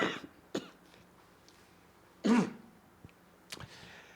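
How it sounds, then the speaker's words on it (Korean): Several separate coughs and throat-clearing sounds from a man during a Sunday church sermon, a couple of sharper bursts with quiet gaps in a hushed room. "기침이 좀 있어서 죄송합니다."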